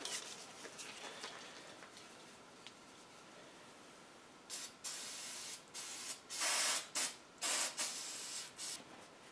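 Cleaner sprayed in a series of short bursts onto a chainsaw carburetor part, sharp hissing spurts in an uneven rhythm after a quiet, faintly noisy opening.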